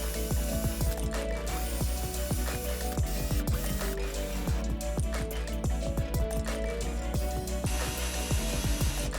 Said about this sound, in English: To hide the heads of self-tapping screws, we countersink the holes.